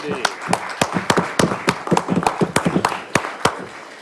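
Scattered clapping from a town council meeting audience in Yucca Valley, a series of distinct claps that stay sparse and uneven rather than building to full applause.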